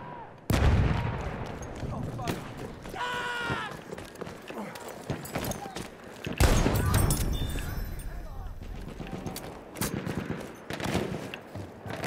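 Sharp, loud shotgun blasts in a video game, spaced a few seconds apart, with a heavy boom near the start and another midway, followed by scattered shots and busy game noise in between.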